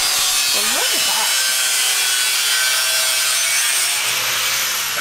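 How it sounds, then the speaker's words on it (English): A grinder runs steadily in a car body shop, a continuous broadband hiss-like whir holding throughout, with brief tonal chirps near the start. "Thomas, over there on the grinder."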